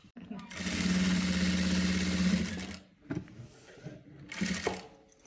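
A sewing machine runs a long continuous stitching burst on a Haryanvi daman skirt, steady and close, then stops and gives two shorter runs after brief pauses.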